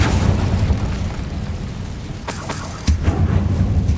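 Incendio fire spell cast in Hogwarts Legacy, heavy booming fiery bursts rumbling low and continuous, with a sharp crackling blast near the middle and another surge just before the end.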